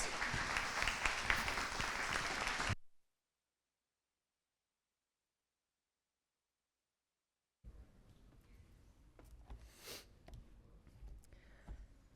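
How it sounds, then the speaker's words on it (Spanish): An audience at a museum colloquium claps for three speakers, a loud burst of applause that cuts off abruptly into silence, then softer scattered clapping and room noise. "Un aplauso, por favor, para nuestros 3 expositores"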